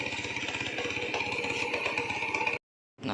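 Engine of a small Honda Astrea Grand–style motorcycle idling after an engine service and oil change, a close steady rattling putter that cuts out abruptly, then restarts briefly.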